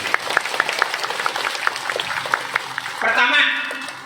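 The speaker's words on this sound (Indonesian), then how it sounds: "Tepuk tangan dulu." Clapping from a crowd at a religious gathering in Kalimantan, steady and fairly close for about three seconds, with a brief swell of cheering or voices at the end.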